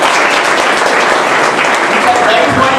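Audience applause fills a college address at an engineering college in Bangalore, a steady dense wash of clapping held at one level throughout, with a voice faintly under it.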